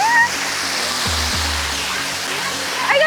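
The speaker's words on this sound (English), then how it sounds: "you can sneak under the waterfall and get a cave experience in there" A waterfall with a cave behind it in Kanchanaburi, Thailand, pouring in a steady, full hiss of rushing water close by, with brief faint voices and a short low hum underneath.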